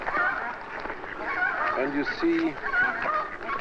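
Ducks and geese, including mallards, honk and quack in a dense overlapping chorus, loud and close, with a voice talking over them.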